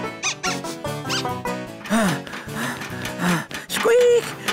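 A cartoon voice imitates squirrel squeaks in Ben and Holly's Little Kingdom: a loud run of short, high, nasal squeaks, some of them stretched, close and prominent with no other talk.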